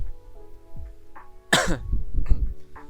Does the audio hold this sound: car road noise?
no